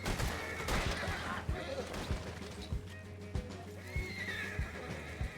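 In Red Dead Redemption 2 Online on PC, a horse whinnies amid game action, with steady hoofbeat-like thumps and scattered gunfire-like cracks in the background.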